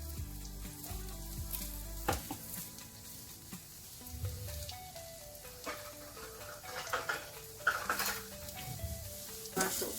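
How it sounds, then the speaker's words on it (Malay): Oil sizzles and crackles steadily as garlic and onion sauté in a wok, with occasional scraping and light clinks of a utensil stirring. "kita nak tumis bawang putih dan juga bawang Holland tadi"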